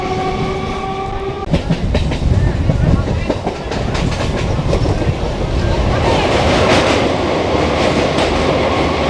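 A passenger train running on from Kakdwip station, with a brief horn at the start, then steady rumbling wheels and rhythmic clickety-clack close by, loud and continuous beneath occasional faint voices.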